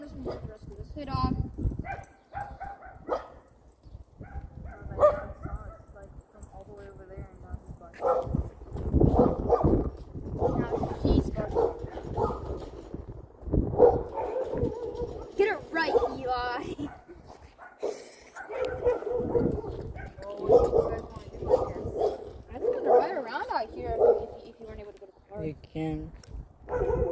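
A dog barks in a video game, repeated bow-wow barks and whimpers scattered through a long stretch under frequent gamer chatter, with hoof-like clip-clop sounds mixed in.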